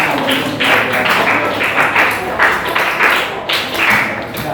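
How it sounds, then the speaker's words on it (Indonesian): A crowd claps in a quick, steady burst of applause that carries on for several seconds, fairly loud and close. "Wah, tepuk tangan dulu buat kita."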